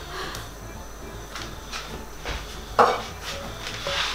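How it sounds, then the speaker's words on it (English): A cooking pan is picked up and handled in a home kitchen, clanking and scraping against other cookware in short, irregular knocks, with one sharper metallic bang near the end. "So first thing that I need to do is to get my pan."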